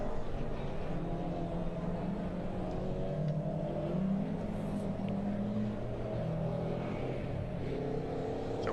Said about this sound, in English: Here they come to the grid then, the two VW Golfs